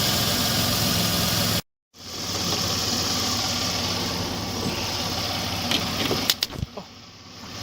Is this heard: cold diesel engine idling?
yes